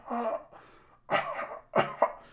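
A voice imitates a smoker coughing his lungs out in the distance: three harsh, raspy cough bursts with short pauses between them, fairly loud and alone, with no talk over them.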